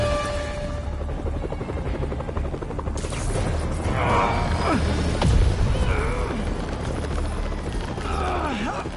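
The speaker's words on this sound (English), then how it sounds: "They're stealing a chopper." A helicopter's rotors thump steadily and loudly throughout a theft, with engine whine and brief voices mixed in.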